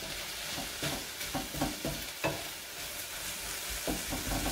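Chilli con carne mixture with smoked paprika and chipotle paste being stirred in a sizzling pan, with repeated soft scraping strokes over a steady close frying hiss and no talking.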